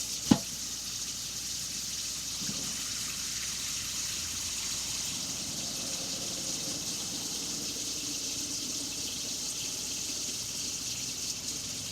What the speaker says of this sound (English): I'm gonna put water in until it covers the eggs